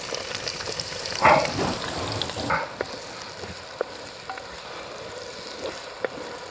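Onions and ginger-garlic paste fry in hot oil for a goat intestine boti biryani, a steady close sizzle with a few louder stirring scrapes early on, then settling into an even crackle with no talk.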